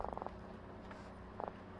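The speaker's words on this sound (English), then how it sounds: "They croak when they get down there on the bottom." A live bait fish hooked through the mouth for fishing gives a few short, raspy croaks in quick clusters at the start and again near the end, close and fairly quiet.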